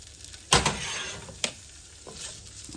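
Smoky sausage browning in a pan, with a soft steady sizzle broken by a sharp clack of a utensil against the pan and a few lighter scraping knocks.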